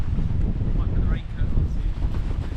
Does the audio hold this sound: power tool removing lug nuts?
no